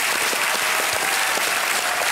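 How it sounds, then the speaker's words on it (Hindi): A brief burst of dense applause from a television game show studio audience on Kaun Banega Crorepati, loud and continuous clapping with no pause. "एक बार फिर तालियां बज जाएं सबके लिए"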